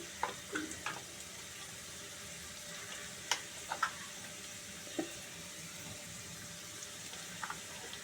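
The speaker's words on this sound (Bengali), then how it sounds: "আলুগুলো একটু ভাজা ভাজা হয়ে গেছে" Potatoes fry in a pan in a home kitchen while a vegetarian banana-flower dish is being cooked. A faint, soft sizzle carries on throughout, broken by a few quiet clinks and taps from stirring.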